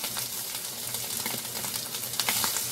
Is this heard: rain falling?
no